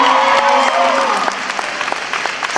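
Audience applause breaks out loudly in a dense burst, clapping continuing and thinning toward the end, with a crowd murmuring around it.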